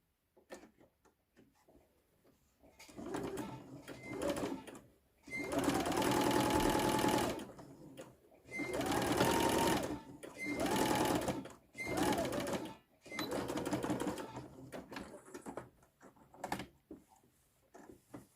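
A sewing machine topstitches a gathered ruffle in several bursts of steady rapid stitching, each run a few seconds long, separated by short pauses with small clicks and handling noises.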